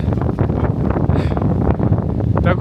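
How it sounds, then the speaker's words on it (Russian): Strong wind buffets the microphone at a mountain viewpoint among pine trees, a loud, continuous roaring rush with no pauses. "И ветер откуда ни возьмись."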